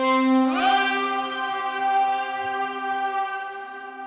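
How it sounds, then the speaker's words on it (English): A buzzy, distorted synthesized voice from Zero-G Ethera Gold 2.5 vocals holds a bright, harmonically rich tone that jumps up in pitch and sustains before fading out. "Let's turn on the distortion as well"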